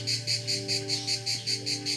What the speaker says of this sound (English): Cicadas are one of the noisiest insects on the planet